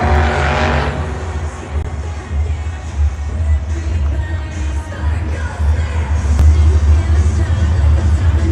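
Monster truck at a Monster Jam arena show: a continuous heavy engine rumble and roar with crowd noise beneath, rising in intensity toward the end.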